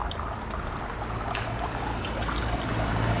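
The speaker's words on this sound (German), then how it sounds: "hier ist der Strahl schon so dünn, der droht schon fast nur noch zu tropfen" A thin stream of water trickles from a public drinking fountain in Cologne, a steady soft hiss and splash heard close, continuing without a break against outdoor background noise.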